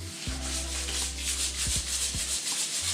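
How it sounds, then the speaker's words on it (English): Sandpaper scrubs wet across a new fiberglass bonnet for an EK Civic, giving a soft steady rubbing hiss that carries on throughout, close up with a low hum beneath and no speech. "Now this is a wet sand, because I don't want to use heat sandpaper on it."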